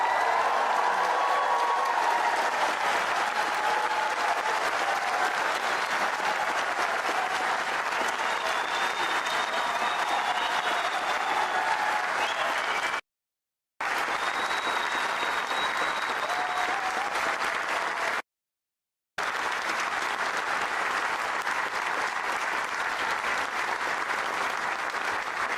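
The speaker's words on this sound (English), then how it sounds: "show us an enormous round of applause for everyone affected by this tragedy" A crowd at a vigil in Nottingham for the victims of a tragedy breaks into sustained, dense applause that stays loud and even throughout, cut by two brief silent gaps.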